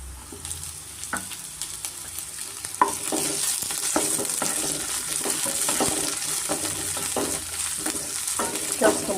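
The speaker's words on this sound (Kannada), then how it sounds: "ಶುಂಠಿ ಬೆಳ್ಳುಳ್ಳಿ ಚೆನ್ನಾಗಿ ಈರುಳ್ಳಿ ಜೊತೆ ಚೆನ್ನಾಗಿ ಮಿಕ್ಸ್ ಆಗಿ ಫ್ರೈ ಆಗಿದೆ" Onion, ginger, garlic and capsicum sizzling in a pan, with frequent spatula scrapes and clicks over a continuous frying hiss, close and fairly loud.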